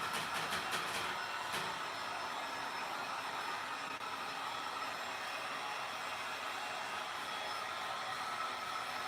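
A hair dryer blows steadily and fairly loud, drying thick acrylic paint on a vintage thrift item, a continuous airy roar with a few brief clicks near the start.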